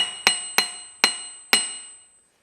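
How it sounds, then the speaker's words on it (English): Four evenly spaced strikes of a dead blow hammer on a part of a 1978 316K engine, each a sharp close knock with a short ringing decay, in a quiet workshop. "this is a dead blow hammer"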